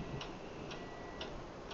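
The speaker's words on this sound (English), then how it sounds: "What is that mysterious ticking noise?" A clock-like tick-tock sounds in a steady, evenly spaced rhythm, four soft ticks about half a second apart over a constant background hiss, with no voices.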